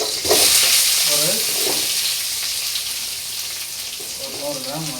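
Onions sizzling and frying in a hot pan with steady crackle, interrupted by a few short stirring scrapes, close and moderately loud.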